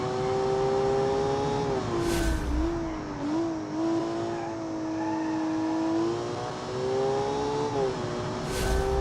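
A mid-engine rear-wheel-drive car in BeamNG.Drive holds a high steady engine whine near the rev limit, dipping and climbing with brief bursts of tire noise, loud and continuous.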